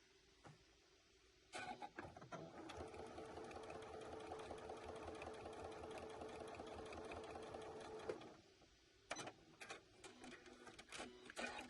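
A Janome Skyline S7 sewing machine, freshly fitted with a new needle and rethreaded after being taken apart, starts up after a few clicks, runs in a steady rapid stitching whirr for several seconds, stops, then gives a few short bursts.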